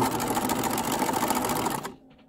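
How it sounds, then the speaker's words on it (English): A sewing machine back stitching along fabric gives a steady, close, loud mechanical whir that cuts off abruptly near the end, followed by a few faint ticks. "I'm going to back stitch all the way to the end"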